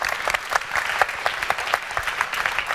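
Steady applause from a small crowd, a dense patter of claps at moderate volume, with no one speaking.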